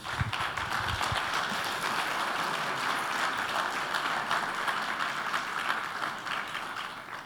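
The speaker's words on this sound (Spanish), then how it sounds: "Denle un aplauso al Señor" Congregation clapping in church during a sermon, a continuous, even roar of many hands held for several seconds, with a brief low voice at the start.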